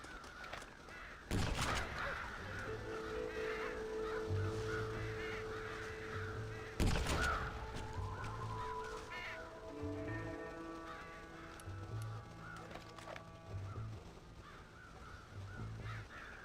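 Crow cawing in the video game Red Dead Redemption, several short harsh caws repeating at irregular intervals over a steady outdoor ambience with background game tones.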